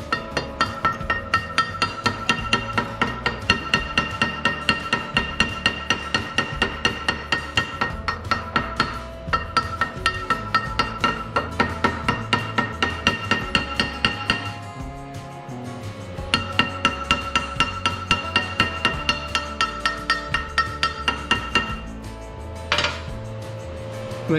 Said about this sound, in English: Need to do a little bit more